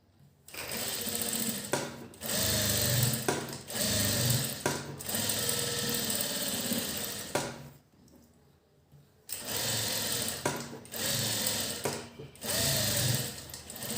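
Sewing machine stitching a blouse seam, running in loud steady bursts of rapid stitching, with short pauses between runs and a longer stop near the middle before it starts again.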